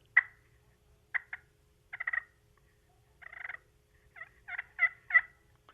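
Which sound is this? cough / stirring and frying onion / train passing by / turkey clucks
turkey clucks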